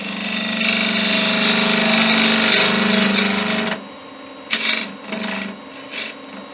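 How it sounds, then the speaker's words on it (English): Sandpaper rasps steadily against a turned teak wood snowman spinning on a lathe, a continuous close abrasive hiss over the machine's hum, then the sanding stops and a few shorter scuffing passes follow. "Minimise the sanding."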